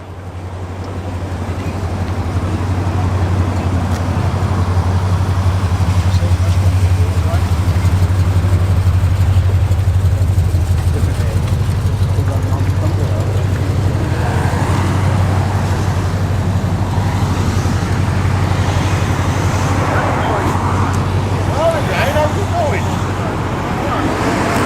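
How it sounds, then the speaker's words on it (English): A classic Foden-based cement mixer lorry with a Mickey Mouse wraparound cab rumbles steadily with a low engine drone, loud and close, joined by general road and traffic noise at a classic lorry run. "This is a Foden based cement mixer."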